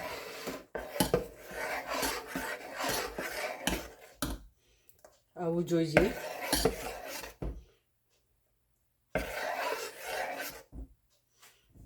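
A spoon scrapes and rasps against a bowl while mixing pearl millet flour and water into dosa batter, in rhythmic bursts separated by silent pauses, with someone talking over parts of it.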